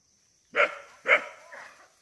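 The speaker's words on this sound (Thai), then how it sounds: "มีหมามาเห่าอยู่กลางป่า" A dog barks in a forest during a mushroom-foraging outing: two sharp, fairly close barks followed by a softer, drawn-out third, with silence before and no talking.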